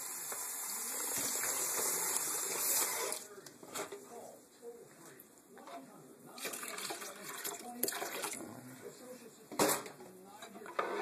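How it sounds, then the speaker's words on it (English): Water runs from a container into a pot of venison chili, a steady pour for a few seconds that then thins into splashes and trickles, fairly quiet and close. "So I'm going to add about 15 more ounces of water."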